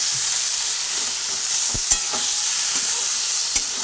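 Mashed cauliflower vorta being stirred in a pan, a soft continuous frying hiss broken by a few sharp spoon scrapes and taps against the pan, close up.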